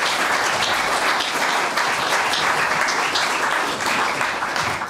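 An audience at a cultural debate evening gives its three panel members a warm, continuous round of applause, dense and even throughout.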